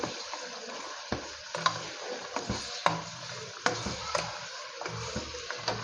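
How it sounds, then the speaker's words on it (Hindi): Tomatoes for a chicken karahi masala sizzle in a pan while being stirred and mashed, producing a soft steady fry hiss broken by close, irregular scraping and tapping of the spoon, without speech. "अब हम इसको की भुनाई करेंगे।"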